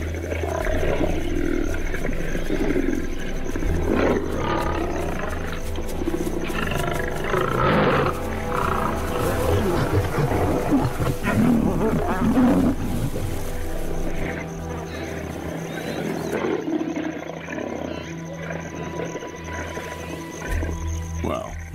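Lions roar and growl as a worried lioness faces a strange male, loud continuous guttural rumbling and snarls up close that fade to a quieter background.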